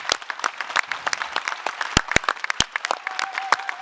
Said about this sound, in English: I would also like to give a roaring applause to the technicians here from the venue